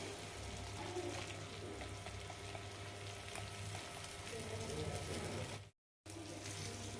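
Ground masala paste fries with curry leaves in a pan over low flame. A faint, steady sizzle runs throughout with one brief dropout near the end.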